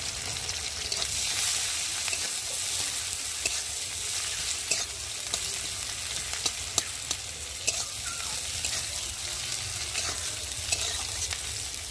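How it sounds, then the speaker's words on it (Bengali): Chopped onions fry in hot oil in a pan with a constant close sizzle, broken by occasional stirring clicks and small pops, with no voices over it. "এখন আমি কেটে রাখা পেঁয়াজগুলোকে দিয়ে ভেজে নেব"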